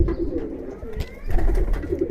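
Giribaz pigeons coo softly in a loft, a low continuous murmur close by with faint rustling and background noise, no talk.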